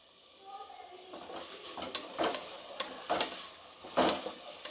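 Small onions sautéing in oil in a pan, a soft steady sizzle broken by several scraping stirs of a spoon, close and moderate in volume, with a voice speaking over it.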